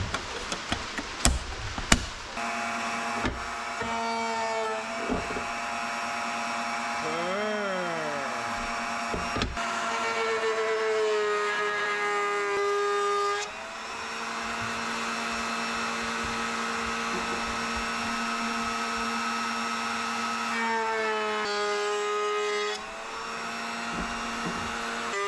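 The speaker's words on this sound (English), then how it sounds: "And back to using the table. Nice big 1/2 inch roundover bit." A router table fitted with a large 1/2 inch roundover bit spins up with a high whine, then cuts wood in several sustained passes, the motor pitch dipping under load and recovering between cuts.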